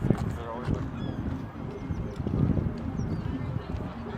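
Geese at Lake Merritt honk in scattered bursts, close and lively, mixed with other birdcalls and a busy outdoor murmur while people talk nearby.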